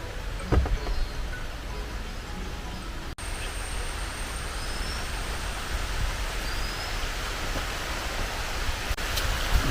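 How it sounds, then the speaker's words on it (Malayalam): Steady rain falls outdoors in Kerala, a dense even hiss that continues throughout, with a brief break and some faint rustling. "അടുത്ത മഴ വന്നു"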